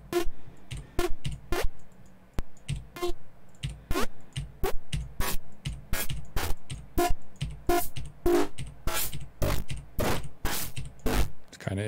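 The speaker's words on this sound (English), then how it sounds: "Or you could even do it with Ableton's chorus, which sounds like this." An Ableton chorus effect turned into glitchy time-based artifacts: a rapid, stuttering train of sharp clicks and choppy bursts repeating in an uneven rhythm throughout, loud and close with no voice over it.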